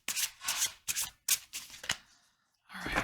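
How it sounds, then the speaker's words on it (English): A deck of cards is shuffled in several quick riffling bursts, crisp and close, with short pauses between them and a final rustling shuffle at the end, no talking. "one more shuffle"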